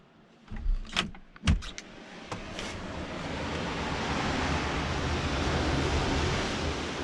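Ocean waves wash steadily onto the beach at Şile, a broad continuous surf roar swelling after a few brief knocks and rustles at the start.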